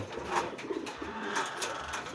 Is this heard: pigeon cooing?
yes